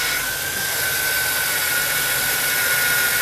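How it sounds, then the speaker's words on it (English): A thin, steady high whine from a Chevrolet Silverado 1500 pickup's power steering pump as the wheel is turned, sustained over a constant engine hum throughout, close up with no voices. "you can hear like a whine"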